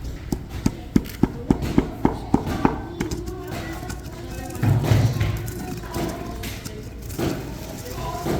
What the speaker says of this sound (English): Have you guys ever used a mortar and pestle before?